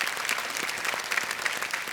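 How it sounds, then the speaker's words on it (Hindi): Studio audience applause on the KBC quiz show set, a dense, steady wash of clapping hands filling the whole stretch with no voices over it. "एक बार जोरदार तालियां"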